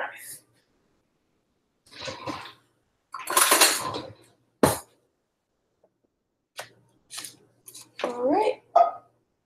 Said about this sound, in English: I'm going to use a butter knife.